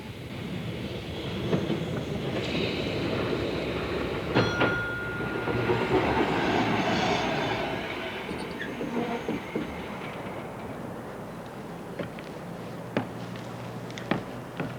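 Model train rumbling along a track in a steady clickety-clack, with occasional sharp clicks and a brief squeal, moderately close and fairly faint, with no talk.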